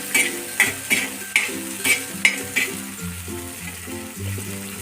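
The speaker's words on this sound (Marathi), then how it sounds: "दोन मिनटं व्यवस्थित फ्राय करून घ्यायच्या मिरच्या" Green chillies frying with cumin in a pan: several sharp spatula taps and stirs against metal in the first half over a soft sizzle, with tonal background music or hum throughout.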